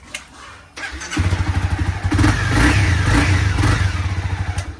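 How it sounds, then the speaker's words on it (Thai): A Honda CBR300 motorcycle engine starts and idles with a steady, throaty stock exhaust burble, revving slightly, close and loud. "เนี่ยครับเสียงท่อเดิม"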